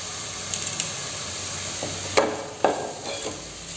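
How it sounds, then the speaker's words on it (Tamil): Tomatoes sautéing in a pan for chicken gravy: a constant close sizzle with a few sharp scraping stirs, no voices. "பச்சை வாடை போகிற வரைக்கும் ஒரு 10 செகண்ட் நல்லா வதக்கிடலாம்"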